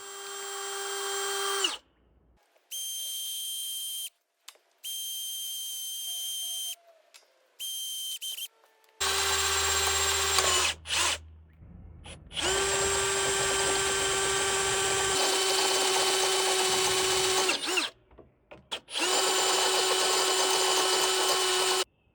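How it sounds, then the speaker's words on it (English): A power drill whines in several bursts, starting and stopping, with long high-pitched runs as it bores 3/8-inch holes through ABS plastic pipe, close and loud. "Gonna drill some holes in that"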